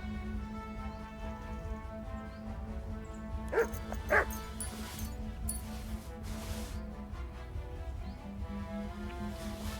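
A dog in the video game Kingdom Come: Deliverance II gives a couple of short barks and yips midway, fairly faint under a steady droning game soundtrack.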